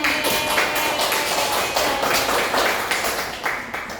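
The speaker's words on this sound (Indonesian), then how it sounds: "Tepuk tangan ya." A crowd clapping hands in a steady, fairly loud burst that continues throughout, with no talking over it.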